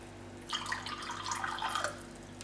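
Warm water running from a tap into a glass, a faint, brief splashing pour lasting under two seconds against a quiet background hum.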